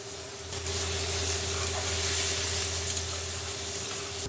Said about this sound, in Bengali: পেঁয়াজটা আমরা বেশিক্ষণ ভাজবো না, গার্লিক দিয়ে দেব